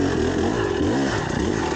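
A 2024 TX 300 dirt bike fitted with a flywheel weight runs with a loud, raspy two-stroke engine note, revving and wavering steadily close by.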